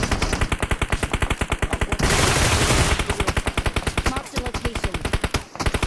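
Rapid automatic gunfire in PUBG Mobile rattles almost nonstop in loud, evenly spaced shots, broken by a short rush of noise before the firing resumes.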